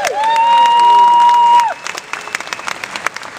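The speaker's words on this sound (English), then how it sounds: "that team is led by Shonda Wesley, who deserves a big round of applause as well" At a convention, the audience lets out a long, loud whoop and cheer, then breaks into scattered, uneven clapping that trails off.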